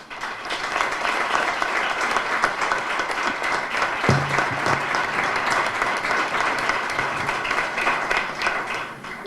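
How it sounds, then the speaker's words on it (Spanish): A large audience applauds long and steadily in memory of Marisa, with the sustained clapping filling the hall. "Por eso pido un entrañable aplauso para ella."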